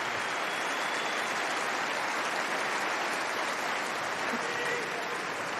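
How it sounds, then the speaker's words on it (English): Sustained applause from a large tennis crowd at the French Open, a steady dense wash of clapping filling the whole stretch at even loudness, with no voices standing out. "he deserves another round of applause,"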